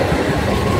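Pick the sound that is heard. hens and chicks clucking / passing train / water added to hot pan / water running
passing train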